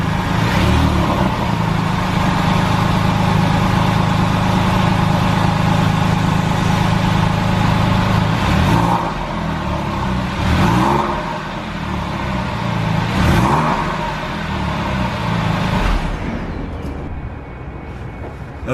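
A Porsche 911 fitted with a new Fister exhaust idles with a steady, loud, close rumble, then gives several short revs in a row before the engine cuts off near the end.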